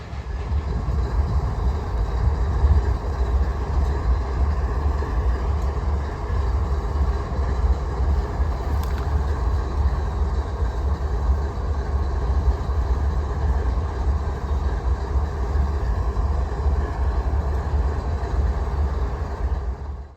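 A freight train rumbles past steadily for the whole stretch, a continuous low roar with faint rattling, moderately distant and without voices.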